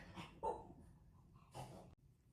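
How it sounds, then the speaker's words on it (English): A dog barks a few times nearby, with short, loud bursts separated by quiet gaps, heard indoors during a watercolor painting session. "Oh, my dog is so loud."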